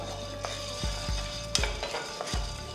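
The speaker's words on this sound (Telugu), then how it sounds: "జీలకర్ర వేసిన తర్వాత ఫస్ట్ వీటిని మనం రోస్ట్ చేసేద్దాం" Fenugreek and cumin seeds roasting in a pan, with a steady low sizzle and a few sharp scrapes and taps of a stirring spoon against the pan.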